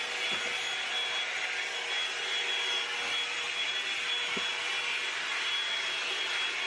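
Revlon hot air brush blowing steadily while styling dry hair, a continuous even whoosh of airflow with a faint motor whine, close and alone throughout.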